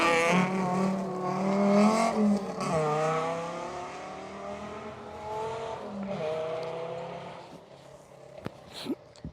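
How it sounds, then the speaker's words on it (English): A loud Audi Quattro rally car with David Alspaugh and Andrew Bennett on board roars along an Oregon Trail Rally stage. The engine note climbs and drops through the gears, followed by a sharp crack at the end, with no talking. "David Alspaugh and Andrew Bennett in the Audi Quattro"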